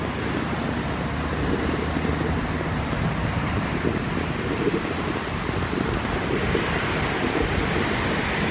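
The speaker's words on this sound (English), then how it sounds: "there's an amazing beach cove here" Waves wash steadily into Sunset Bay's beach cove, a dense continuous roar of surf mixed with wind buffeting the microphone, loud and unbroken throughout.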